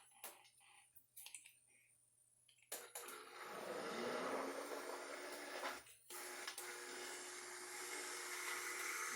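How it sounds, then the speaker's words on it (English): An immersion blender pulverizing vegetables in stock for homemade vegetable stock, with a few clicks and bumps and then a loud, steady whirring drone that briefly dips before resuming, no talk. "So what I'm going to do is I'm going to use the immersion blender"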